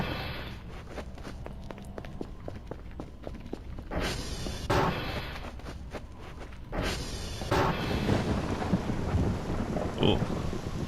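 A video game thunderstorm with steady rain; deep rumbling thunder bursts twice over the rainfall, along with faint footsteps and a high electronic whine.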